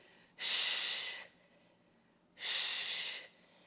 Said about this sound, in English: exhale to row, inhale to release